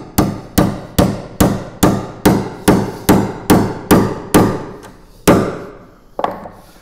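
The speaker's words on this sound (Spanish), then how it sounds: "Y la clavija entra a mazazos, de la única forma que puede entrar" A mallet drives tuning pins into a Geissler quarter-grand piano in a steady rhythm, about a dozen sharp, ringing metal-on-wood blows close by, then a pause and a final knock.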